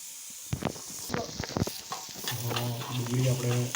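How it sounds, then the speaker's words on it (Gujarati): Finely chopped onions sautéing in a pan for dal fry, with quick spoon scrapes and stirring clatter first, then a strong steady sizzle that swells and holds. "ડુંગળી આપણે થોડી ચડવા દઈશું"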